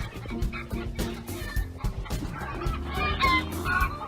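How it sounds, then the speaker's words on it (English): Upset new chickens on a farm cluck and squawk repeatedly in agitated bursts, close and fairly loud, with faint talk in the background. "That's two of our new chickens."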